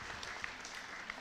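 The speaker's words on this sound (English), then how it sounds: "So I want a round of applause for Dr." A short, faint burst of audience clapping at an induction ceremony, soft and scattered, lasting only about a second.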